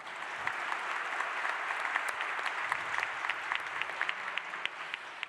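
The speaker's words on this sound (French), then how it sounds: "Les anciens, vous pouvez applaudir les nouveaux." An audience at a round-table event applauds its newcomers, a steady, moderately distant patter of many hands with crisp individual claps standing out, sustained evenly throughout without voices.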